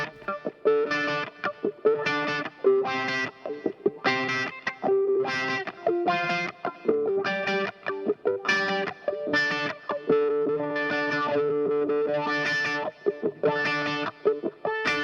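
Wah-wah electric guitar run through a compressor placed ahead of the EQ, playing a sustained rhythmic riff of sweeping, throaty chords, loud and continuous with no talk.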